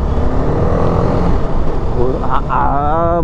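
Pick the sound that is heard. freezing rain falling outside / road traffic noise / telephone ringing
road traffic noise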